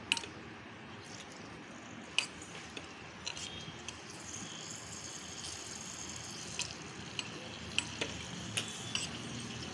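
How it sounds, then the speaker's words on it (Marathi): Raw mango kurkure snacks frying in oil over a low flame, a soft continuous sizzle with occasional light clicks and taps of a utensil, close and fairly quiet. "हे असं अजून दोन तीन तळून दाखवते तुम्हाला"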